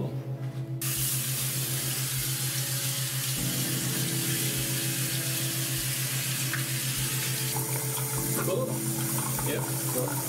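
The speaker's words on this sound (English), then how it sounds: "Perfectly running. The water goes." Water runs steadily from a freshly repaired tap into a sink, a continuous hiss and splash with a faint hum underneath, close and unbroken throughout.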